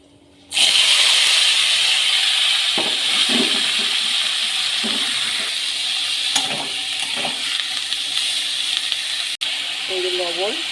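Capsicum and carrot drop into hot oil tempered with panch phoron, setting off a sudden loud, hissing sizzle that holds steady throughout, while a voice speaks quietly underneath.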